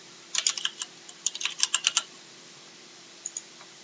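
Quick bursts of keyboard typing on an Android phone while entering a place name into a search field, two clusters of soft taps then a pair of isolated taps, quiet and close with no speech.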